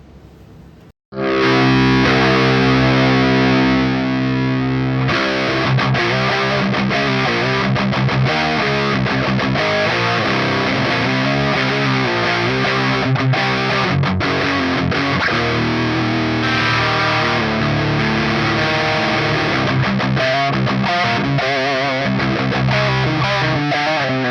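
An electric guitar through a Baghdad preamp distortion pedal rings out loud and sustained, thick high-gain chords with a brief quiet moment before it kicks in.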